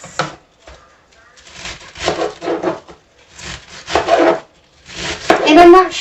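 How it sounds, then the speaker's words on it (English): Cabbage shredded by hand for sauerkraut, coarse cut: bursts of rasping, scraping strokes in several close, loud runs separated by short pauses, without speech. "I'm not shredding these too finely because they will break down in the fermentation process"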